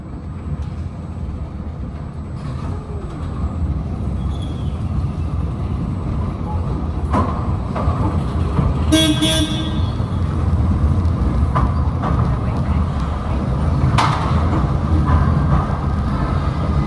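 Mail Rail, London's underground postal railway, rumbles steadily through its tunnels, a continuous low rolling drone that swells slightly, with a brief squeal and occasional clanks partway through.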